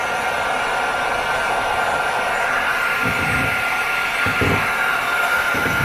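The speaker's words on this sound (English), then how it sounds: "if I heat the end, I'll be able to use my thumb to just roll the vinyl around." Heat gun warming vinyl wrap on a Tesla Model 3 door handle, producing a loud, steady airy roar with a constant blowing hiss throughout and a few faint low thumps near the end.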